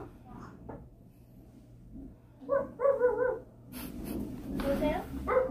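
A puppy gives a few short whimpering barks and yips up close at a moderate level, mixed with breathing and background noise, with no speech over it.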